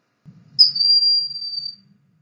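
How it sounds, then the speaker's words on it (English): Broad-winged hawk giving its call: a single high, thin, sustained whistle lasting over a second, clear and alone against near silence. "So the broadwing hawk has a different call."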